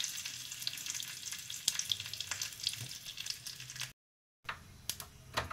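Cumin seeds and curry leaves sizzle in a spoonful of hot oil for a tempering, with crisp crackles and pops over a steady hiss. A brief silent gap breaks the sound before the sizzling resumes.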